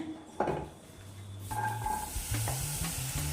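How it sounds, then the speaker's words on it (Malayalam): Pineapple pieces hit a hot pan and are stirred, giving a soft sizzle and close scraping and knocking of the utensil against the pan. "ഇപ്പോൾ ഇനിയിപ്പോൾ അടുത്തതായിട്ട് ഈ പൈനാപ്പിൾ ഈ പാനിലേക്ക് ഇടുകയാണ്."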